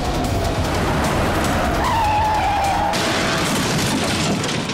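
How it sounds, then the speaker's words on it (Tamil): A vehicle skids with a loud screech of sliding tires, then crashes with a burst of impact noise. It is close and dominant over a noisy background, in a TV crime drama scene. "எவனோ குடிச்சு வண்டி மோதிட்டான்னு நினைக்கிறேன்டா"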